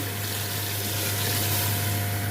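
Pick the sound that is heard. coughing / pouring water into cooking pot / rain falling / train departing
pouring water into cooking pot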